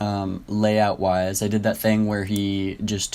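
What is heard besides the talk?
No everyday noises stand out.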